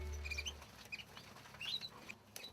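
Pet canaries kept by a breeder chirp in quick, scattered bursts, faint bright tweets repeating over a low indoor hum.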